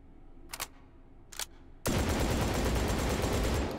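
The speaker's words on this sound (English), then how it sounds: "I really like this shotgun." A shotgun fires in the VR shooter Hot Dogs, Horseshoes & Hand Grenades: two short, fainter sharp reports, then a loud sustained blast of gunfire rolling continuously to the end, close and dominant.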